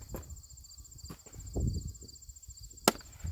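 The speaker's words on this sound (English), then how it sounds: "I'll split with the maul, get a bunch down to smaller sizes, and then I'll bust them down with this axe" An axe with a new farm-store handle splits firewood on a chopping block outdoors: one sharp, close crack of the blow stands out over soft rustling and a steady insect chirr.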